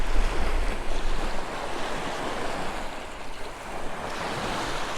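Wind-driven waves wash against shoreline rocks at sunset in a continuous, loud surging roar, with gusts of wind buffeting the microphone throughout.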